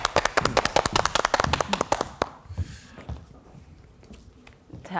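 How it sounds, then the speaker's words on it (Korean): Studio audience on a Korean morning TV show clapping to welcome a special lecture on painters and color: a burst of crisp, fairly loud claps for about two seconds, then fading into scattered taps and quiet room murmur. "그 첫 번째 특강 큰 박수로 맞이해보겠습니다."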